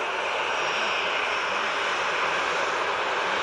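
Ryanair Boeing 737-800 taxiing toward the listener at Manchester Airport, its jet engines giving a steady, even broadband roar that holds constant throughout with no speech.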